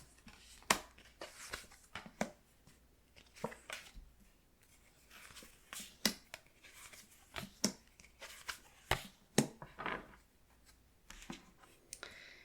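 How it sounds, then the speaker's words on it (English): Tarot cards being shuffled by hand, a run of sharp papery riffles and slaps in uneven bursts, close and fairly quiet, with brief pauses between handfuls. "Maybe I did shuffle like this"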